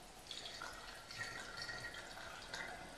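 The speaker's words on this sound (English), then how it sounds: "I'm going to pour in some of the vodka." Vodka poured into a chocolate liqueur mixture gives a faint, steady trickle of liquid that runs without a break for a few seconds, quiet and close with no talking.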